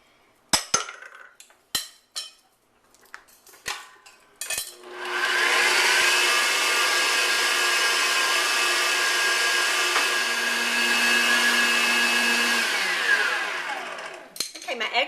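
An electric mixer with a whisk attachment beats eggs and sugar for tiramisu: a loud, steady whirring drone runs unbroken for about eight seconds, preceded by a few sharp clinks and taps of utensils.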